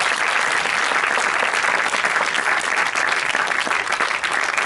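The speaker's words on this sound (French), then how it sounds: "Est-ce qu'on n'applaudirait pas" Audience at a French film screening breaks into sustained, dense applause, loud and steady throughout with no break.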